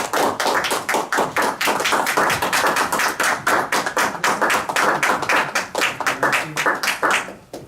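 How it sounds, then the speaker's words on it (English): Applause from the audience at a Toastmasters club meeting: steady, dense hand clapping from a small crowd, loud and continuous, thinning slightly toward the end. "Please give a round of applause for"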